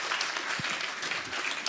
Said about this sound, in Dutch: Mag ik een groot applaus voor Alice Lemkes Straaf